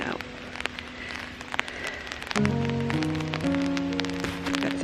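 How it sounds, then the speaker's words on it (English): Steady rain falls outside on a Tuesday morning, a dense, even patter throughout, with some sustained tonal sounds joining partway through. "It's Tuesday and it's raining out."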